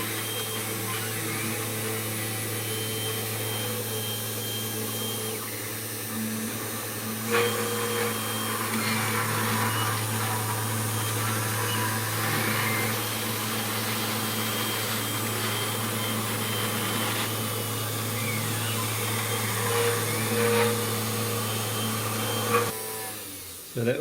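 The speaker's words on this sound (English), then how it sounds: "So that was with a slightly faster spindle speed." Spindle of a DIY mini CNC machine running at a slightly faster speed, a continuous droning hum with a few brief clicks and load shifts, close and steady for the whole stretch.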